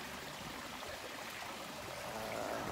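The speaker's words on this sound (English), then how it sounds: "I'm out here by the waterfall." A steady, broad rush of falling water fills the air, constant and hissing with no other sounds.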